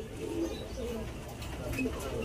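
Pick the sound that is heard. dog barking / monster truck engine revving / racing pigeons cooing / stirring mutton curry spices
racing pigeons cooing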